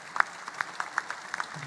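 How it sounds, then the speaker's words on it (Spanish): Applause at the swearing-in of Huila's new governor, a few distinct claps standing out over a soft crowd background, fairly distant and sparse. "El aplauso para el nuevo gobernador del departamento del Huila"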